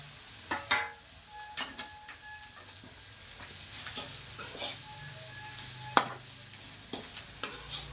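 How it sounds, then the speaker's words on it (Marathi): Chivda sautéing in ghee in a pan: a steady low sizzle broken by scraping stirs and a few sharp spatula clinks against the metal, close and fairly quiet, with no talking. "बघा पैकी परतून घेते मस्तपैकी"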